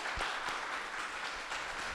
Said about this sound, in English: Let's give a round of applause to Elio, please.